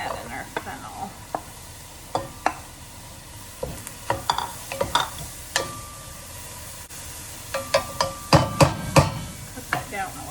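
Fennel goes into a pot for vegetarian soup and cooks with a steady soft sizzle, broken by scattered clicks and knocks of stirring that cluster near the end.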